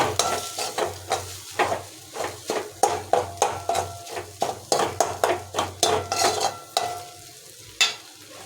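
A spoon stirs cooked rice into an egg mixture in a pan for Tamil-style egg rice, making quick, regular scraping knocks against the metal over a soft sizzle, close and clear, with no talking.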